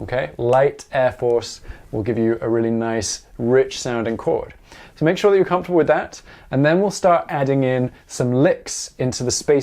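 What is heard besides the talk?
No distinct noise like a dog, phone or traffic.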